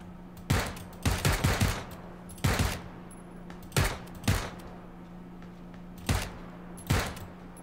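Repeated gunshots from a found weapon in PUBG, fired in several bursts and single shots spread across the moment, loud and close, with no talking.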